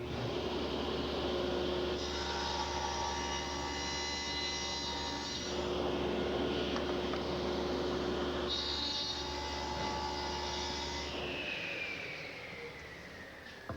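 A table saw fitted with a dado blade runs steadily while cutting a tenon in wood guided by a miter gauge, a continuous whining drone with two longer passes of heavier grinding before the blade winds down.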